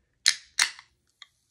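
A can of Meltdown energy drink by Bang cracks open: two sharp close hissing pops in quick succession, then a tiny click, with nothing else around it.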